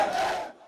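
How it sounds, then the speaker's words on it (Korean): Campus concert crowd shouting for an encore after the final performance, a brief burst of massed voices that fades out quickly. "마지막 공연이 끝나자 모두가 기다렸다는 듯 연신 앙코르를 외칩니다."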